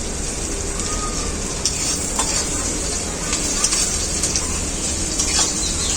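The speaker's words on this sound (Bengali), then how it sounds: "পেঁয়াজটা খুব ভালো করে ভাজি নিই" Onion fries in a pan for a chicken kala bhuna with a loud, continuous, close sizzle. Occasional light clinks and scrapes of stirring break through it.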